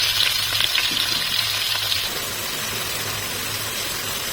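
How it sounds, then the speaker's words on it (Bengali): Onion, tomato and chopped vegetables fry in a pan with a steady, close sizzle and soft stirring scrapes, the hiss a little stronger at first, then settling into an even background sizzle. "এই পেঁয়াজ আর টমেটোটাকে হালকা ভাজা ভাজা করে আমি এর মধ্যে যা আগে থেকে কেটে রেখেছিলাম সবজিগুলো সেটা দিয়ে দিলাম"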